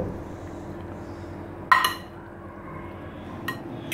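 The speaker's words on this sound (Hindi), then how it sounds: "अब हम इनको अच्छी तरह से तमाम चीज़ों को मिक्स कर लेंगे।" Lahori chana chaat ingredients mixed in a dish with a utensil, giving two brief, close metallic clinks against the dish a couple of seconds apart over a quiet background, with no talking.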